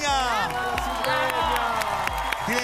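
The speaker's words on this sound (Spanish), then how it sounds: "Aquí está el aplauso para cigüeña." A television talent show audience applauds and cheers for the masked contestant Cigüeña, a loud, close crowd roar with whoops over strong rhythmic music beats.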